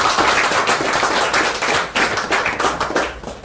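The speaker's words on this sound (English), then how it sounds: "And I think that deserves a round of applause." A round of applause from an audience at a ceremony honouring the first female Governor General of the Federation, many hands clapping in a dense sustained patter that thins out toward the end.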